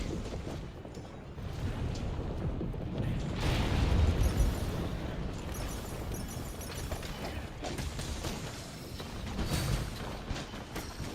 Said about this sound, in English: I'm gonna put some bombs down here real quick